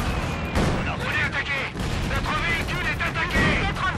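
Cannon and gunfire in a Company of Heroes 2 multiplayer battle: repeated heavy booms and shots aimed at the player, dense and loud, with someone talking over the combat throughout.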